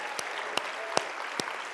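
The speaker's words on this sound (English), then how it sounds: "So all of you, stand up and be applauded." A conference audience at a Women in Data Science event claps sparsely, with a few sharp, evenly spaced hand claps standing out over a quiet room.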